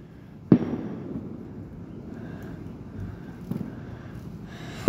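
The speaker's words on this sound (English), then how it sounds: "there's somebody shooting a gun" A gunshot fired nearby outdoors: one sharp loud crack near the start, then a fainter second report a few seconds later, with wind noise and another hit at the very end.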